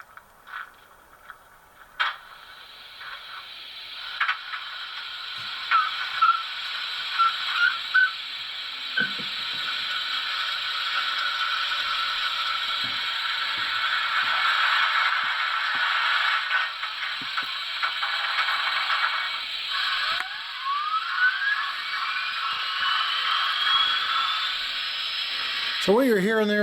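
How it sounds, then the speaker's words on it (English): A model USRA Heavy Mikado steam locomotive with DCC sound: a steady hiss of steam builds with scattered clicks and clanks, then the headlight dynamo whine spools up, all close and continuous. "You hear steam build up, and then you hear the dynamo spool up to the headlight."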